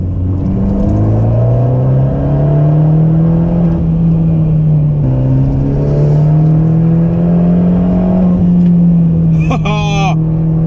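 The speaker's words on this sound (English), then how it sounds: "That Record Monza exhaust is really coming into its own." A 2018 Abarth 124 Spider GT with a Record Monza exhaust accelerates on a test track, its engine note rising through the gears with a brief dip at a shift and a crackling pop near the end, loud and close.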